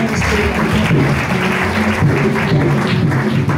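A church congregation applauding, a loud, dense and steady wash of many hands clapping throughout, with faint voices mixed underneath.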